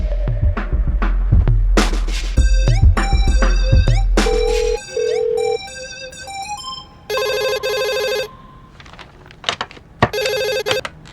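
A telephone rings with a bright electronic ringtone during a call to a hostel warden, sounding in several bursts of stacked tones with short gaps and no voices.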